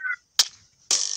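Skeleton archer in the Minecraft video game, with two sharp bow shots about half a second apart followed by a thin ringing tail. The sound is close and clear, with no talk.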